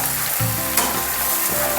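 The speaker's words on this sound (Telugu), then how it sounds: "మనకు బాగా ఇలాగ ఎర్రగా ఫ్రై అవ్వాలండి కాకరకాయ" Bitter gourd pieces frying in a pan until reddish-brown, giving a steady, close hiss and crackle of hot oil with faint stirring, no voices.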